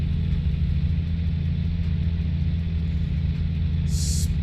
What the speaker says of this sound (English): but we got our engine sounds back